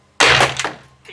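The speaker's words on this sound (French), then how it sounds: "Je vais tirer un chargeur complet." An Umarex IMPAX P68 crisis-defense pistol fires: a single loud, sharp thunk that decays quickly, followed by a fainter second pop.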